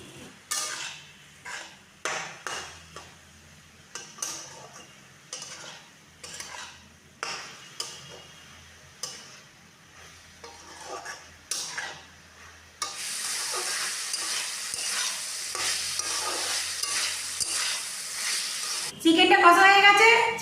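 Chicken for momo filling stir-frying in a pan, a steady sizzle under repeated scraping and stirring strokes, with a louder, denser frying hiss in the latter part and a brief clatter near the end.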